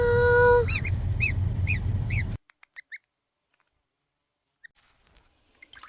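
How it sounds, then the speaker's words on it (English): A goose on a small homestead farm honks repeatedly in a quick run of nasal calls over steady low background noise, then after a sudden cut a few faint, scattered honks follow amid near silence. "First and foremost, the goose."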